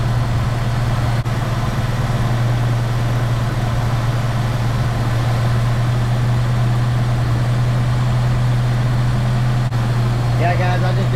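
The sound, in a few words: 1976 Chevy LUV engine idling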